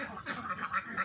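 Ducks on a duck farm give faint, soft quacks in a quick run of calls, distant and low in level.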